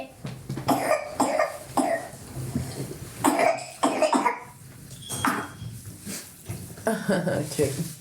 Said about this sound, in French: Tu vois des extraits de quelqu'un qui tousse.